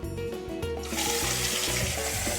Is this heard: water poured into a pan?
yes